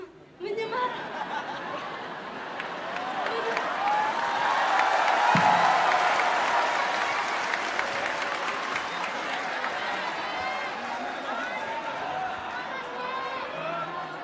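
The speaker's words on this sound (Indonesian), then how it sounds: "Tepuk tangan dulu" An indoor audience at a question-and-answer event applauds in a sustained wave of clapping that swells and slowly eases over about fourteen seconds, with crowd chatter, light laughter and some voices mixed in.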